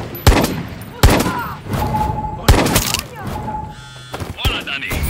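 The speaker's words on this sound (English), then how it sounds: "Is that gunfire?" Gunfire in the video game Far Cry 6, several loud, sharp shots and booming blasts cracking out at irregular intervals with ringing tails and rumbling in between, with faint game voices underneath.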